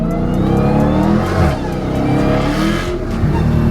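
A modified widebody Dodge Challenger Hellcat engine roars loudly up close, revving and surging in pitch with a deep, rumbling exhaust.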